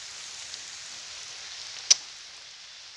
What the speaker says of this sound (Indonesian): Panen di musim hujan ya, hujan-hujan ya.